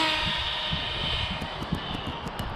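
A WB12PRO RC car fitted with a 28mm motor runs at full throttle, giving a loud, steady, high-pitched electric whine over constant broadband rushing noise, with no pauses.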